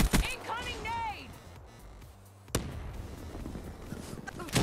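A grenade blast in Black Ops 3 gameplay: a sudden loud broadband boom around the middle, after voices and game sounds, followed by a sustained rumbling wash of noise with another burst at the end.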